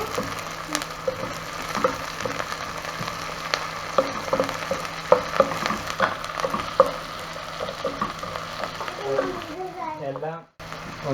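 Chicken pieces and long strips of ginger sizzle and crackle in a hot pan while being stirred, with scattered scraping and clinking strokes over a continuous frying hiss; the sizzle flares briefly near the end.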